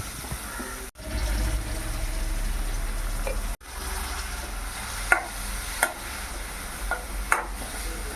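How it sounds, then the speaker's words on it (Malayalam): Two sliced onions sauté with salt in a pan, giving a close, continuous sizzle broken by two abrupt cuts, followed by a few distinct spatula clinks and scrapes, with no talking. "രണ്ട് സവാള കട്ട് ചെയ്തതും കൂടെ ഉപ്പും കൂടി ചേർത്ത് നന്നായിട്ട് വഴറ്റിയെടുക്കാം."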